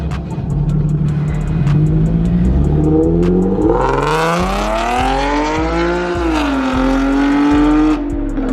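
A loud car fitted with test pipes revs up and accelerates hard, its engine note climbing steeply as it roars close by, with brief gear-shift breaks before the pitch settles and fades slightly.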